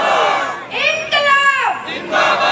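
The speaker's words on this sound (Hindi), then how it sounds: "सभी ऊपर हाथ उठाइए और जोर से नारा लगाएंगे, आम आदमी पार्टी, आम आदमी पार्टी" A crowd of supporters at a Haryana village election rally loudly chants the Aam Aadmi Party slogan in unison, several rising shouted syllables close and forceful.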